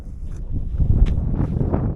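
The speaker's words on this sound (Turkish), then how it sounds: "Çok rüzgar var." Strong wind on Tendürek Dağı, a volcanic mountain, buffets the microphone with a steady low rumble that swells and gusts throughout, with no one speaking.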